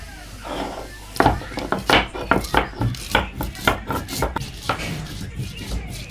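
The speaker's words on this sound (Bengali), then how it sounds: "ভাজি করার জন্য আমি আদা, রসুন আর জিরা একসাথে বেটে নিব" Ginger, garlic and cumin are crushed together on a grinding stone, with a rhythmic series of dull, thudding strokes repeating about twice a second, close up, while a voice speaks faintly underneath.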